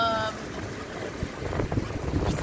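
Tayana 37 sailboat gliding gently through the open ocean at around four knots, with soft wash of water along the hull and steady wind rumble across the microphone throughout.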